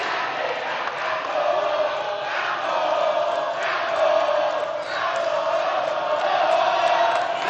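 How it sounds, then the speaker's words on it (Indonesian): Supporters of a candidate pair at a Central Java gubernatorial election debate clap and shout together, a dense, steady roar of crowd noise that holds throughout. "Boleh tepuk tangannya dari pendukung paslon nomor 1."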